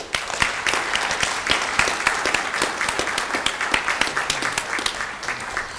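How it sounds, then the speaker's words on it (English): A room claps for Phi Theta Kappa members at a 2013 Barton Community College Fort Riley honors ceremony, with many distinct hand claps in a lively, uneven rhythm, some close and sharp, continuing without pause. "please give these fabulous people who really do make my life a whole lot easier a big round of applause"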